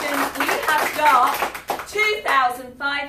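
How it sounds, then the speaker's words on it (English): A small group at a food collection drive claps for themselves, a short burst of close, uneven hand claps mixed with cheers and chatter, then voices talking over the fading clapping. "So I'd like to get you all to give yourselves a round of applause."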